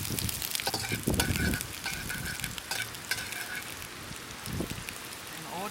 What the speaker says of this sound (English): Then I'm going to stir fry the other stuff. And I put the onion in it.